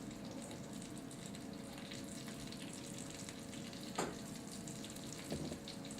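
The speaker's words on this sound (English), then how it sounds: "Let them sear up on each side real nice." Pork loins searing in butter with a little pepper in a hot pan, giving a steady broadband sizzle throughout with no talk, plus a couple of brief louder spits or pops near the end.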